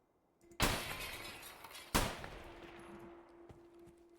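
Two loud gunshots ring out in the Escape from Tarkov video game, about a second and a half apart, each with a sharp crack and a long decaying tail, then quieter game ambience.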